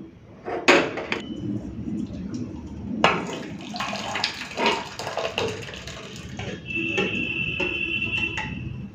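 Boiled dal (lentils) being poured out: a close, continuous watery splashing with a few sharp clinks against a vessel and a sustained pouring stream near the end.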